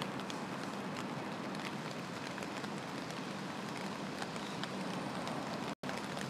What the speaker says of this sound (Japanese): 雨すごいね。